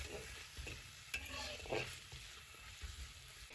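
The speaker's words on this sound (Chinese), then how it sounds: "再把洋葱丝放进来，继续用铲子翻炒，再给它翻炒1分钟" Shredded onion stir-fried with a spatula in a hot wok, a steady faint sizzle with soft scraping strokes and a couple of brief metallic scrapes, no voices.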